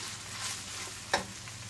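Chopped bell pepper and jalapeño sizzle steadily in a hot pan with onion, a continuous close frying hiss with a brief stir or clatter near the end.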